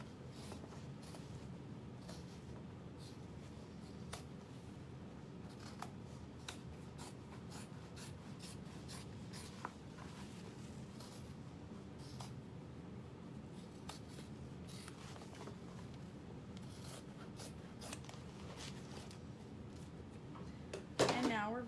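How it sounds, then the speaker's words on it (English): Scissors trim the excess seam allowance from a leather handbag, producing a run of quiet, close snips and rubbing sounds at an uneven pace. "trim the extra seam allowance down, trim it down."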